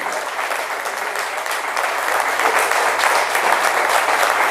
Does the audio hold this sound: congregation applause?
yes